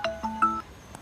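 A mobile phone plays an incoming-call ringtone, a short bright melodic sequence of electronic tones heard up close.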